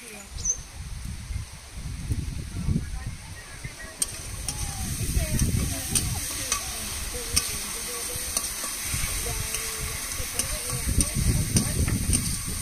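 Spice paste of chilli powder, cashew and poppy seed frying in a pan, with a steady sizzle under repeated scraping stirs that grow busier toward the end.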